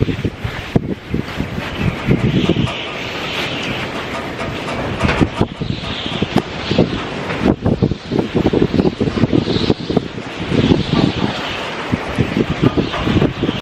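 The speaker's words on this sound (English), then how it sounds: "it was super windy" Strong outdoor wind buffeting a microphone on a rainy spring morning on a patio, a continuous roaring rush with gusting surges and rumbling low-end blasts throughout.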